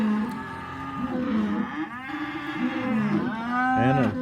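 Cattle on a farm mooing repeatedly during calf weaning, several loud drawn-out calls from different animals overlapping and following one another, close by, with no talking.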